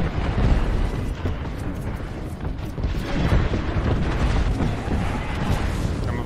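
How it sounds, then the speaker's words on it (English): Airstrike explosions in the video game Apex Legends pound steadily and loudly for several seconds, a dense layered rumble of repeated booms that never lets up. "Signaling an airstrike."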